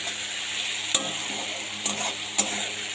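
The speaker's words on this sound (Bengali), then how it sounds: "আলুটাকে একটু লাল লাল করে ভেজে নেব।" Chopped potatoes frying in a pan with onion and chili, a steady soft sizzle broken by a few sharp scraping clicks of stirring, close and moderately quiet with no voices.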